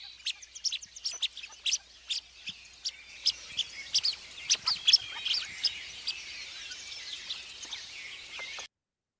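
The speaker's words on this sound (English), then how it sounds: "Got these little soft pip pip pip noises for our blue-winged teal." Blue-winged teal call with soft, high pip notes. Short chirps come in quick irregular bursts, fairly close, over a quiet marsh background.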